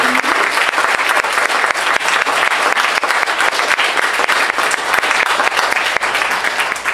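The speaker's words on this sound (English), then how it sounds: "a quick round of applause for our panelists" Sustained audience applause at a wildlife speaker panel on Colorado wolves, a steady dense wash of many hands clapping at full volume from start to finish with no talk over it.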